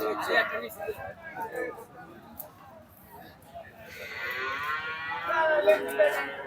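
Crossbred cattle and calves low at a post-Eid cattle market in Bangladesh, with a couple of deep moos rising near and loud between stretches of people talking and general market chatter.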